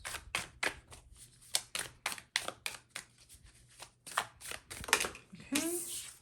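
Tarot cards are shuffled and drawn in a rapid run of crisp riffling flicks and slaps, up close and alone, ending in a brief fluttering swish.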